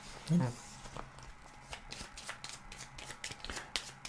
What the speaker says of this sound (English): So I'm going to give this a good shuffle.